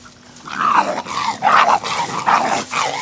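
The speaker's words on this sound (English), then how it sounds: "They just puppies doing what puppies do." Puppies growl and grumble in playful bursts, close and fairly loud, with short rising yips between the rough rumbling sounds and no talk.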